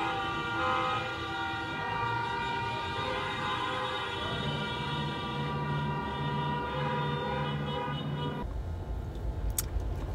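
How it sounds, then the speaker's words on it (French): Sustained layered car horn blasts honking continuously in celebration at a distance, overlapping tones droning on before cutting off near the end. "J'ai dû prendre une vidéo des klaxons."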